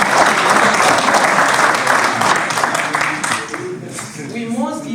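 Full audience applause at an African Union conference side event, strong and continuous, then thinning and fading out toward the end as a speaker's voice comes in over the last few claps.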